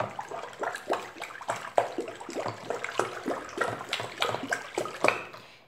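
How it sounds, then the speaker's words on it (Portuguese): Water poured in repeated sloshing splashes into a fabric softener mixture made with massage cream, fairly loud and close with an irregular rhythm. "Eu vou colocar ainda mais meio litro, tá, gente, de água, tá?"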